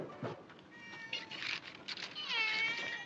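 A cat meowing in a 1944 film, several drawn-out, wavering meows rising and falling, fairly close, with a quiet background and a little speech.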